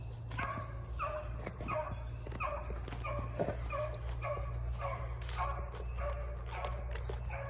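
A beagle hound gives repeated yips and high barks in quick bursts, with several dogs yelping close by over a low steady hum.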